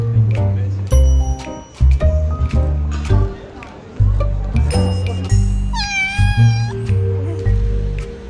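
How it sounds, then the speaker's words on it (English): A well-fed stray cat meows repeatedly on an Istanbul street near Galata Tower. The calls are loud and drawn out, and one wavering meow stands out over music and street noise. "Another cat."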